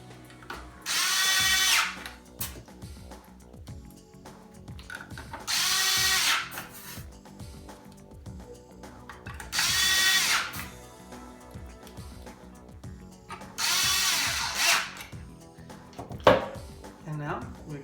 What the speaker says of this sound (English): now we're going to go ahead and tighten the 4 screws in there